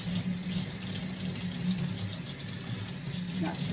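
Tap water running steadily over orchid roots in a sink, a continuous close splashing rush with slight fluctuations throughout.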